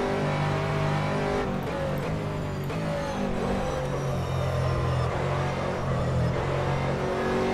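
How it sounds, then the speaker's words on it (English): An LMP3 prototype race car sweeps past in a racing simulator at Silverstone. A loud, steady engine drone holds a bright, rising and falling pitch as the car draws level and pulls away, with some faint tire noise. "That's the Speedy Mite LMP3 again"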